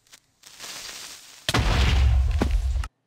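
A deep, booming explosion in Minecraft erupts after a lower rumble, heavy and loud with crackling noise, then cuts off abruptly.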